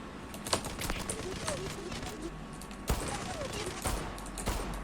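Rapid gunfire sprays in the online shooter game Zula, with bursts of sharp repeated shots over busy game noise, and a voice talks faintly underneath.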